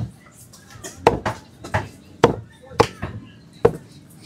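Meat being hacked on a board with a cleaver in a market, five or six sharp, loud thwacks at irregular intervals, with faint voices underneath.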